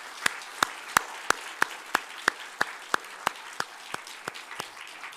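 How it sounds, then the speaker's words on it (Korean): A church congregation during worship claps in slow, steady unison, about fifteen sharp evenly spaced claps, fairly close and clear, with no talking over them. "우리 하나님께 영광의 박수를 올려드리겠습니다"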